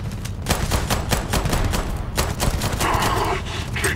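Rapid bursts of automatic gunfire from a firefight in the space video game Starfield, loud and continuous with dense overlapping shots and no voice.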